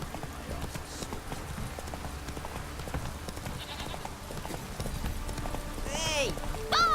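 Roach, a horse in The Witcher 3, galloping with steady hoof clip-clop under a busy game soundscape, with a voice talking over it and a few shouts near the end.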